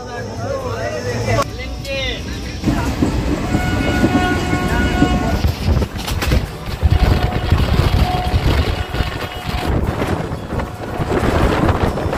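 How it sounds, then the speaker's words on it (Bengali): Paharia Express (15722) pulls away from platform 1 on the Howrah to Digha route, with a loud horn blast, then rumbling and clattering wagons close by, buffeted by wind noise and mixed with voices. "পাহাড়িয়া এক্সপ্রেস ছেড়ে দিচ্ছে 1 নম্বর প্ল্যাটফর্ম থেকে।"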